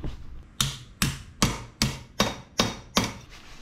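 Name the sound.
hammering to straighten a rat rod tail light bracket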